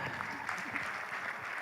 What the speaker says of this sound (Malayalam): സോ ഒരു നല്ലൊരു കയ്യടി കൊടുക്കാം.